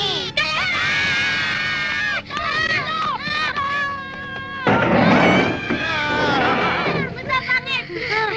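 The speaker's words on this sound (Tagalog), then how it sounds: "Pusa lang pala eh" A cat yowling and meowing in long, loud, wavering cries close by, with people shouting and talking over parts of it.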